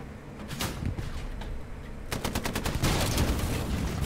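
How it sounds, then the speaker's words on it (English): Machine gun fire in the World War II shooter Hell Let Loose, with short rapid bursts close by that grow denser and heavier toward the end against a rumbling battlefield background. "We both squirted him with the MGs."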